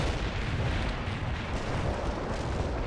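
Artillery strike in the World in Conflict video game, heard as a dense, continuous rumble of distant explosions and booms rolling steadily with no pause.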